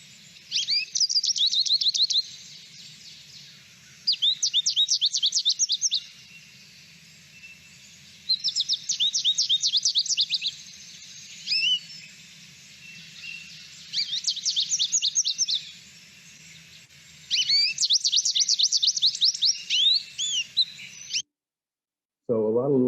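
An American goldfinch sings in several bright, rapid bursts of twittering, squeaky phrases that imitate other birds, separated by short pauses, with a faint low murmur underneath and a brief separate call at the very end.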